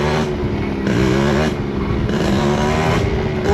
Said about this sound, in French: maintenant la moto elle a beaucoup plus de bas régime